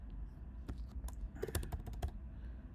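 Quick keystrokes on a computer keyboard as a file name is typed, a close run of light irregular clicks with no talking.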